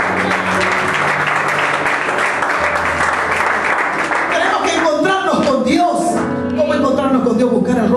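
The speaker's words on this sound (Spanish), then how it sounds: "Denle un aplauso a Dios." A church congregation gives a sustained round of applause, loud and close, that gives way midway to a speaking voice with music underneath.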